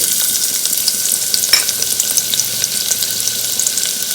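Onion, fenugreek, cumin and mustard seeds fry in hot oil with a loud, dense, continuous sizzle and crackle, close and alone.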